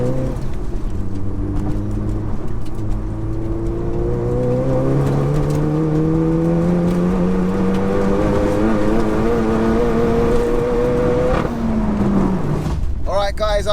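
A tuned stage 4 Seat Leon Cupra accelerates hard down a runway, its engine note climbing steadily through a long pull before a sharp shift and lift-off near the end, loud and continuous.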